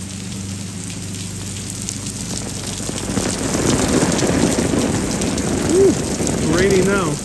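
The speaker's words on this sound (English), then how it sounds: "Raining now." Rain falls on the streets of Genoa's historic center, a broad hiss that swells partway through, with a soft rumble early on and faint voices or brief tonal sounds near the end.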